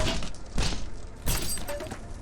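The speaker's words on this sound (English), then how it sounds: "There was a glass that I broke. I heard it." Glass shatters in the Viscera Cleanup Detail game, two bright crashing bursts about half a second apart over a noisy, rushing background.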